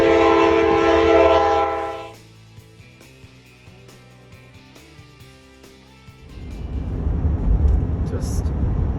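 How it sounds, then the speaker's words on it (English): A dome train rolls past in Alaska, opening with a loud, sustained horn blast for about two seconds, then a lower clattering rumble of rail cars that swells again near the end, with a voice speaking over it. "Here comes the dome train."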